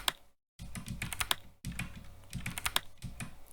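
Someone types on a computer keyboard in quick clusters of crisp, close keystrokes. Two brief silent breaks split the bursts into separate runs.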